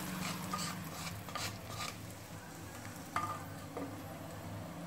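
Tempering ingredients stirred into cooked rice for lemon rice, a soft scraping and stirring with light sizzle and a few sharper spoon taps against the pan, fairly quiet and without talk.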